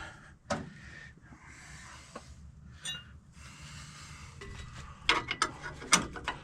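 A ratchet clicks while bolts are removed from a 2001 Dodge Dakota during steering pump and axle work, bursts of close metallic ratcheting separated by pauses, ending in sharper clanks.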